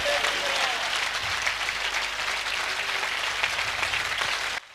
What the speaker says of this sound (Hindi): आओ सारे एंड तक जोरदार तालियां उसके नाम को जलाल देने के लिए बना।